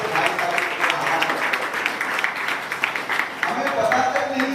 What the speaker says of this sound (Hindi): जोरदार ताली से भाई साहब